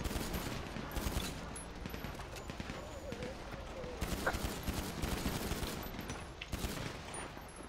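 Chaotic gunfire during a bank robbery in a video game, with frequent rapid shots and bursts over a busy background while people talk throughout.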